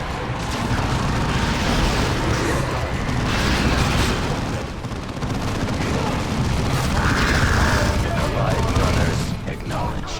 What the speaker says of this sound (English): Mine grenade.